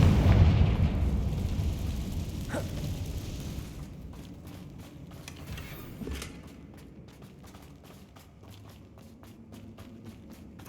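A Confringo spell in Hogwarts Legacy bursts with a loud, rumbling explosion at the start, fading into crackling debris, scattered impacts and clicking footsteps.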